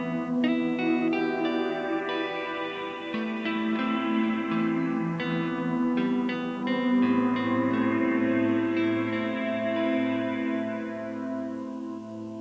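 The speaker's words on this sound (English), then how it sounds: "The third modulation target is filter. This will modulate the high cut parameter." A Strymon NightSky reverb pedal with filter modulation on the high cut, producing sustained, shimmering synth-like tones that swell and shift slowly over about twelve seconds, with reverberant washes and no voice present.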